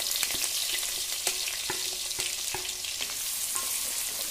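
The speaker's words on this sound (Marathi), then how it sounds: "एक छोटा बारीक चिरलेला कांदा घालते।" Finely chopped onion frying in hot oil on medium heat for an egg curry, a steady close sizzle with a dense hiss and scattered light stirring taps.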